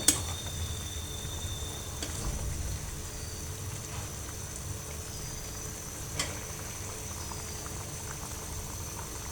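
Chela fish curry simmers in a pan as it is stirred, a low, steady bubbling with faint sizzle and a couple of soft utensil clinks.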